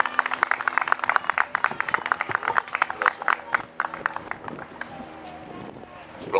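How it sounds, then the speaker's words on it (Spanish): A crowd claps loudly for a visiting commissioner at an Ecuadorian independence celebration in Orlando, with dense, uneven hand claps that thin out toward the end while voices murmur underneath. "para quien pido un fuerte y caluroso aplauso"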